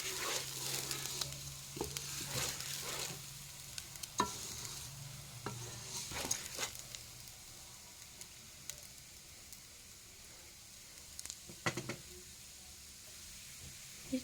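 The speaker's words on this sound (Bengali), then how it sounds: "কিছুক্ষণ নেড়ে চেড়ে ভেজে নিব চাল আর ডালগুলা" Rice and lentils stirred and fried in a pan for khichuri, a soft steady sizzle with repeated scraping strokes of a spoon, loudest in the first seven seconds and again briefly near the end.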